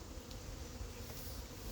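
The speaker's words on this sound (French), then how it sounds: "dès qu'on donne du sucre aux abeilles, c'est la folie. Hein. Elles sortent en masse." A dense, steady buzz of many honeybees swarming out of the hive in a mass after being fed sugar, continuous and fairly close, with no voices.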